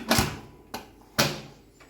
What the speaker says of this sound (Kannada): ಕುಕ್ಕರ್ ಮುಚ್ಚಳ ಮುಚ್ಚಿ